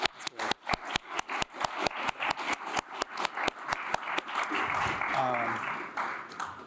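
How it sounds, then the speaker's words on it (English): An audience at a lecture event applauds, starting with loud, evenly spaced individual claps that swell into a dense, steady wash of clapping from many hands. "And let's have an applause"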